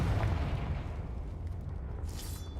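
A Confringo fire spell blast in the video game Hogwarts Legacy: a heavy, booming explosion rumbles loudly at the start, then its low roar slowly decays and thins out over a couple of seconds, with no speech.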